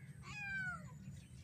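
A cat gives a single drawn-out meow whose pitch slides downward, close and clear over a low background hum.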